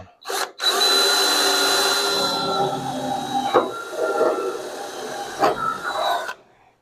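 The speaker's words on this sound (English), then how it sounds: "Hopefully that was the right size drill bit." A power drill bores in with a loud, close, whining spin that holds for about five seconds, dipping briefly a few times before stopping, with no talk over it.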